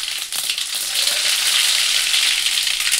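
Mustard seeds fry and pop in hot oil in a pan on the stove, a loud, steady, close sizzle with a hiss that fills the moment.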